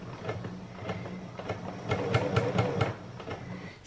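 A sewing machine stitches across a dress seam in short bursts, its quiet mechanical clatter ticking rapidly near the microphone with brief pauses between runs.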